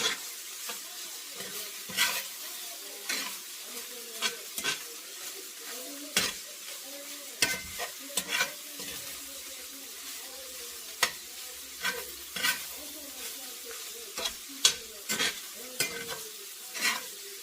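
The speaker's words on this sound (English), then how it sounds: "I'm just going to stir this all in here. Get all that seasoning inside of here." Ground beef for chili sizzles in a pan while a spoon scrapes and stirs seasoning through it, with repeated sharp scraping strokes over a steady frying hiss.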